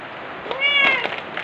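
A house cat meows once, a clear, close rising-and-falling call lasting under a second over a low background hum.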